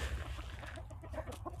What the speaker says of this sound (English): I have to be careful with my attack rooster right there.